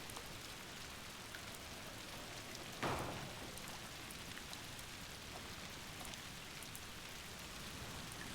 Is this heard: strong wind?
no